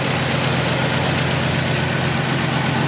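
An old truck's 360 V8 engine idles steadily and loudly up close, a constant rumbling drone with no talk over it.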